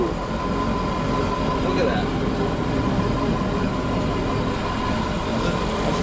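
A steady, low boat engine rumble idles continuously close by, even and unbroken throughout, on a 32-foot SeaVee.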